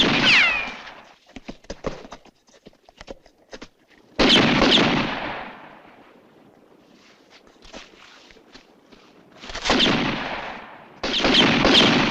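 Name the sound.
gunshots in a western film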